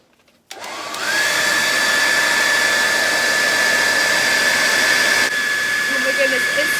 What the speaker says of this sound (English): So just as we saw the effects that this hairdryer had on this ping pong ball, making it float all over the place